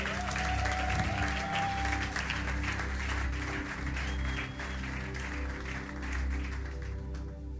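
A church congregation claps together in sustained, fairly loud applause over a low steady hum, the clapping staying even throughout with faint crowd voices mixed in and no clear cheering.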